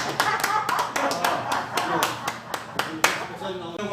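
Congregation applauding at a church service, a run of sharp irregular claps that swells and fades over several seconds, with low murmuring voices underneath.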